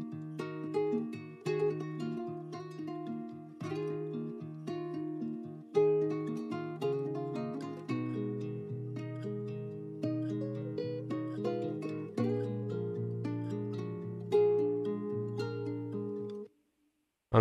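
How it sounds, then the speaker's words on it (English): Several guitar parts play together in a looping, repeating pattern of plucked notes over sustained lower chords, moderately loud, ending abruptly. "my guitar layers, which sound like this together."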